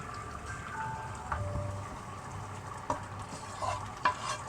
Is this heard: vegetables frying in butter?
yes